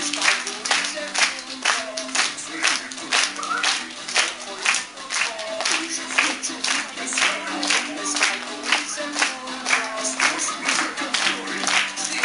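A live audience clapping along in steady rhythmic unison, sharp repeated claps close and loud for the whole stretch, with faint voices underneath.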